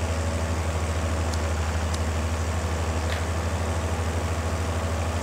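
A tractor engine idling in Farming Simulator 22, a steady low throbbing hum with a regular pulse and a few faint ticks above it, no voices.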